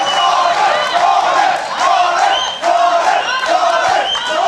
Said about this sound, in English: The crowd loves combat jiu-jitsu, huh?